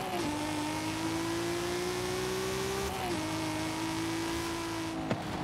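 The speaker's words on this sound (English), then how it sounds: "Formula D Supra racing against us." Race car engines in Forza Horizon 5, including a Formula D Supra, droning steadily at high revs with a shifting whine that dips once mid-run, alongside a brief sharp knock near the end.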